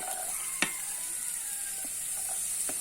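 Chilies dropped into hot oil for a long beans coconut curry, a steady bright sizzle throughout with a few sharp clinks of a utensil on the pan, no talk.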